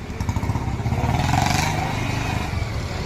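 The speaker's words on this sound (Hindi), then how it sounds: "ये बाइक जो साइलेंसर मॉडिफाइड लग करके इससे लोग परेशान होते हैं" Motorcycle with a modified silencer, no number plate, a loud close engine with a rough, rapid popping exhaust rhythm that swells around the middle and stays steady to the end.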